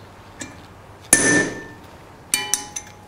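A hammer strikes hot iron while a bottle opener is forged, starting with one loud ringing blow that lingers, then a few lighter, quicker taps that follow close by, with no voices over them.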